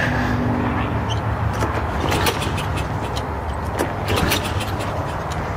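A Toro Recycler 22-inch lawn mower engine cranks repeatedly without catching, giving loud, rough bursts of mechanical churning close by that sputter and fall away without settling into a running idle.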